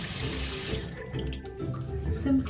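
Tap water runs steadily into a sink while a face and neck are washed, a close, continuous splashing rush that dips partway through as the hands move under the stream.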